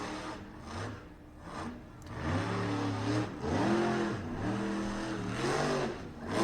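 A monster truck engine roars and revs on a center jump run at a No Limits Monster Trucks show in Kalispell, Montana, with repeated rising and falling throttle surges, loud and sustained, no voices.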